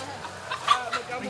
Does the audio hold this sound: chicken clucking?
yes